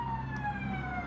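A city emergency vehicle siren sounds faintly from outside a studio, a steady tone drifting slightly downward across a short moment under low room noise.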